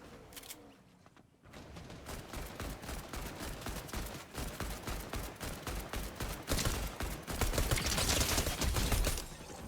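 Sustained gunfire exchange in a Fortnite match, rapid overlapping bursts of shots hammering nearly nonstop and swelling louder toward the end, mostly without talk.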